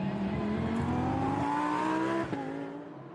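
A Lamborghini Super Trofeo race car passes on the Vallelunga circuit with a loud, high engine note. The pitch climbs and then drops as it goes by, with a commentator talking over it.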